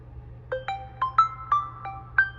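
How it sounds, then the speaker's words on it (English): Default stock ringtone on a OnePlus Nord N20 5G phone, a clean melodic sequence of seven bright chiming tones in a steady rhythm, played alone with no talk. "So ringtone, by default, it's gonna be this standard issue OnePlus sound."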